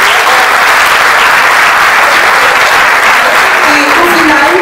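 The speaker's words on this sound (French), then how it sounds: "Mais je vous demande de les applaudir quand même." Loud, dense applause from a graduation ceremony audience honoring absent graduates of a business school's advanced programs, steady and continuous throughout with no pauses, a faint voice or cheer rising briefly near the end.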